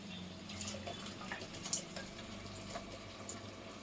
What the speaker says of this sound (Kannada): ಈಗ ನೋಡಿ, ನೀರು ಹಾಕೋತಾ ಇದ್ದೀನಿ.